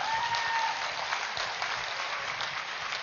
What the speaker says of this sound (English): our dear Brahmarshi Patriji, let us give a huge round of applause.